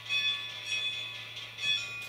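A model diesel locomotive's TCS WOWDiesel sound decoder plays short bell or horn tones, about three quiet bursts evenly spaced over two seconds, above a steady low electrical hum.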